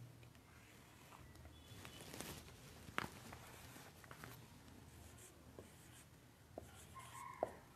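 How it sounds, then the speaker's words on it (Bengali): Pen writing the numbers 3, 21 and 34 by hand during a fourth-grade maths lesson, a soft continuous scratch of strokes with small taps, close and alone with no talk. "এখানে আমি কয়েকটি সংখ্যা লিখব এখন"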